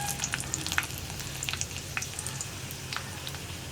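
Halved whole dried red chillies hit hot oil for a yam stir fry, setting off a steady close sizzle dotted with small crackling pops, with no talking.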